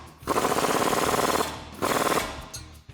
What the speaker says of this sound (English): We can tighten that up with the 19mm socket and wrench.